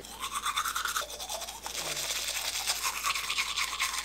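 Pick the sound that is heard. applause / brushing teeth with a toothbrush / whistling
brushing teeth with a toothbrush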